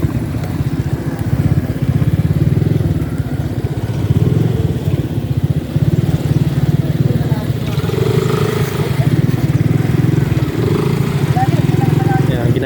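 A scooter-type city motorcycle engine runs steadily on a mountain road with a low rumbling drone, close and loud, continuous throughout.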